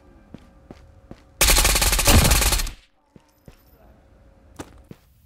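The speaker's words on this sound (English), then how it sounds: "Tommy Gun Classic." A Tommy Gun in the VR shooter Ghosts of Tabor fires one loud sustained automatic burst of about a second and a half, preceded and followed by a few sharp, quieter clicks and taps.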